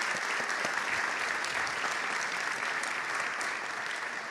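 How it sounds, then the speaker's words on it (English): A crowd at a special town meeting claps steadily, a thick, even wash of applause lasting a few seconds without a break or any voices on top. "please give them a round of applause."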